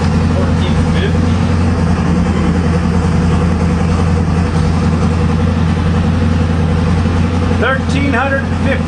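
A 1450 HP LSX small-block Chevy engine running on boost, a loud, steady, deep rumble close by that fills the clip, with faint voices partly masked beneath it.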